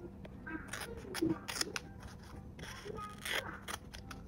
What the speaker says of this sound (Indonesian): Lalu untuk bagian segitiga yang ada di ujung ini kita gunting, membentuk bulatan